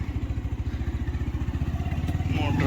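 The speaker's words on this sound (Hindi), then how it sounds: "मोटरसाइकिल।" A motorcycle engine idles nearby with a steady, rapid low thumping rhythm that grows slightly louder toward the end.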